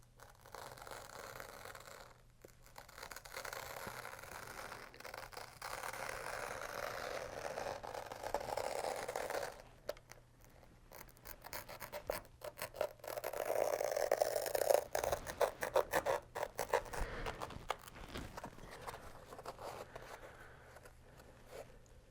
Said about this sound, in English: Take my blade, and I'm just going to do a very light cut at first.